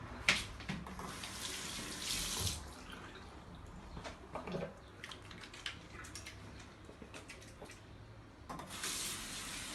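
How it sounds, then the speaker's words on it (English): Hands being washed with soap under a running tap, water streaming and splashing in a sink with bursts of rubbing and shifting flow, close and fairly quiet with no talking. "Other thing you can do is to wash your hands with soap and water."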